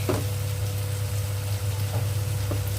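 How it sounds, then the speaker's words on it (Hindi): Chopped tomatoes frying in a pan, a steady close sizzle with a low continuous crackle and faint stirring clicks, no talking. "टमाटर को भूनने में ज़्यादा टाइम नहीं लगता है।"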